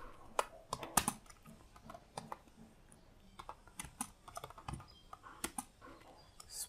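Keys clatter on a computer keyboard as text is typed into a web page builder, with irregular bursts of close, crisp clicks and short pauses between them.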